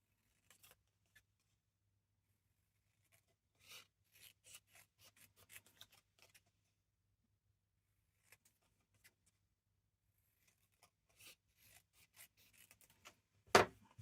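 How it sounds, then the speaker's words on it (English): Scissors snipping out a paper napkin design in a craft room: quiet, sparse cuts and soft paper rustles spread across the stretch, ending in one louder rustle. "let's just quickly cut this out"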